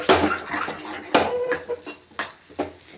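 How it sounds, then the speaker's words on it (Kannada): A spoon scrapes and clinks against a pan while semolina for sajjige is stirred and roasted over a low flame, several distinct metallic knocks and scrapes in an uneven rhythm, close and clear. "ಇದನ್ನು ಚೆನ್ನಾಗಿ ಲೋ ಫ್ಲೇಮಲ್ಲೇ ಹುರ್ಕೋಬೇಕು"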